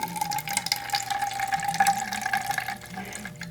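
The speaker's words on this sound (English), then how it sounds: "And we squirt the water in." Tap water squirted from a glue bottle into a water-cooled CNC spindle to flush it, a close, continuous gurgling trickle with bubbly splashes throughout.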